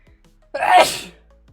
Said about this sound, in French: Premier éternuement